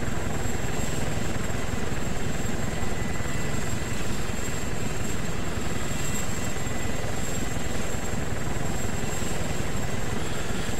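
A helicopter in the video game DayZ Epoch gives a steady, dense rotor and engine roar that stays constant and loud throughout.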